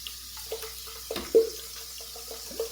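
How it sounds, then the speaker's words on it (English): Water is poured over grated coconut in a kitchen to wash it, producing trickling, splashing sounds close by with a few louder splashes at irregular intervals, and no voices. "I just pour some water into this so I can wash the coconut again"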